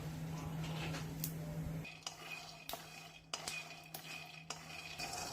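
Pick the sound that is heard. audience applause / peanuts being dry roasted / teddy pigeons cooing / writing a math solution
peanuts being dry roasted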